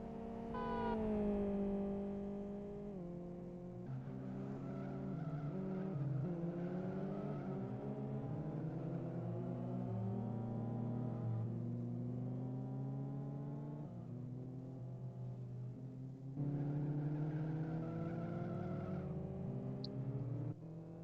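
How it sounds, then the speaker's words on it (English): Race cars in the Live for Speed video game head out of the pit lane onto a flying lap, engines revving and rising through gears with harmonic whine, several cars overlapping, steady and loud throughout. "So we've got some cars already heading out for their first flying lap."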